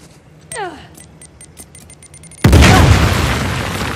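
A grenade blowing open a fragile wall in Uncharted: The Lost Legacy, a single loud booming blast with a rumbling tail, following a quieter stretch of in-game effects and a short whoosh.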